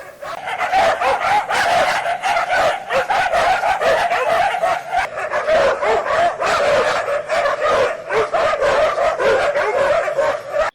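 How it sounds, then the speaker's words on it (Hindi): Dogs in a village lane bark nonstop, a dense, loud chorus of overlapping rapid barks and yips from several animals close by, with no pauses across the stretch. "इन कुत्तों ने भी परेशान करके रख दिया, सारा दिन भौ भौ भौ भौ करते रहते हैं"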